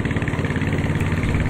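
Engine of a rented motorbike idling and running steadily in Ladakh, a close, continuous low rumble with an even throb and no talk over it.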